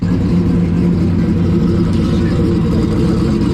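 A 2000-horsepower Foxbody Mustang coupe with a 98mm turbo, backing out slowly, its engine rumbling loud and steady at low revs, close by, with faint voices beneath.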